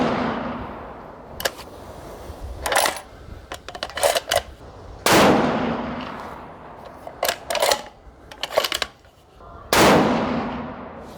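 A Ruger Precision Rifle in 6.5 with an aftermarket Krieger barrel fires handloaded ELD-M rounds during load development at a range. Three loud, close shots land about five seconds apart, each with a long decaying echo. Sharp metallic bolt clicks fill the gaps between shots.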